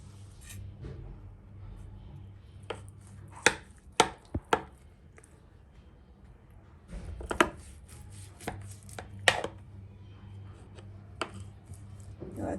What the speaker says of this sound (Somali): sidaana u jarjaranay